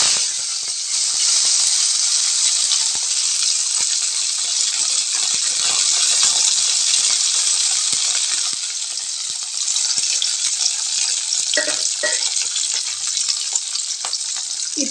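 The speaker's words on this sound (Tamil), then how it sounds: "இப்போ இதை செவக்க வறுத்து எடுத்துக்கலாங்க" Cashews and raisins frying in ghee for rava milk payasam, a loud, continuous hissing sizzle close by, steady throughout with a couple of brief stirring knocks near the end, no talk.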